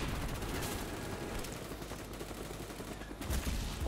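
Rapid video-game gunfire is aimed at the player: dense bursts of shots crackle continuously at moderate loudness, with the firing briefly thinning before it returns.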